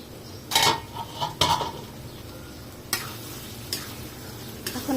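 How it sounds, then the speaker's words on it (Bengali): Beef tripe and onions are stirred in a cooking pot, with sharp metallic scrapes and clanks over a soft sizzle. A few uneven strokes sound close and moderately loud, and no one speaks. "এখন একটু নাড়াচাড়া দিয়ে নিতেছি।"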